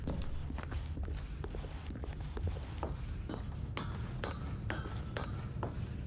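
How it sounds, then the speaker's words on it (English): Footsteps in the video game The Stanley Parable tap along in a steady walking rhythm, quiet and close, over a low background hum. "I love the footstep noises too"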